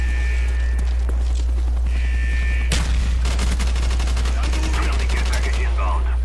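Video game shooter match gunfire, a steady hum underneath with sharp rapid bursts and a dense automatic volley in the second half, fairly loud and alone without speech.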